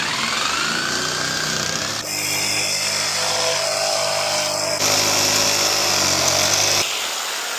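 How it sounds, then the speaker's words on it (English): A jigsaw cutting wooden Adirondack chair pieces, loud and close, with a continuous buzzing rasp whose pitch shifts as the blade works through the board. "Now I'm going to get my jigsaw and I'm going to cut those out."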